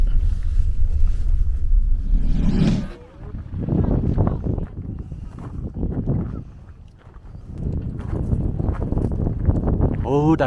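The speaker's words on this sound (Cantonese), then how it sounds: "好大風啊" Strong wind gusting across an open grassland plateau near Shangri-La, a heavy roar buffeting the microphone throughout, with people talking over it.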